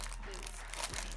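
Plastic packaging around a set of earrings crinkles and crackles as it is pried open by hand, soft and close with faint background hum.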